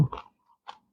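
Crispy fried pork cracklings in a southern Thai yellow curry with pickled bamboo shoots are chewed close up, giving two short crunches separated by a brief pause.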